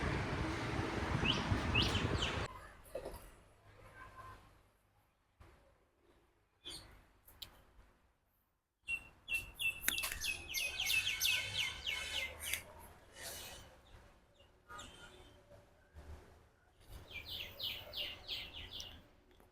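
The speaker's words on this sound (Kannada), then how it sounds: "ಕೋಳಿ ಪಕ್ಷಿಗಳೆಲ್ಲ ಕೂಗ್ತಾ ಇದೆ." Birds chirping and calling at dawn around a temple, with chickens among them; bright, high calls come in bursts, loud at first, then a quieter gap, then renewed busy chirping through to the end.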